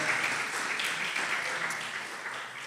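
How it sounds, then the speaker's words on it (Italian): Audience applause at an Italian café talk event on dubbing, a steady dense wash of clapping from a crowd, fairly even throughout and tapering slightly toward the end. "anche qui l'applauso ci sta tutto"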